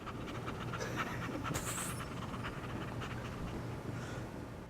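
Close, rhythmic dog panting, quick breathy puffs continuing steadily for several seconds with no talk over them.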